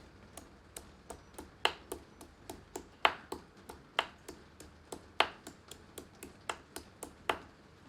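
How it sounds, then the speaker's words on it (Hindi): Sharp, fairly regular pounding knocks from a mortar and pestle crushing a piece of ginger, about three per second, with occasional louder strikes; no talking. "अब एक खल मूसर में एक अदरक का टुकड़ा अच्छी तरह कूट लेते हैं"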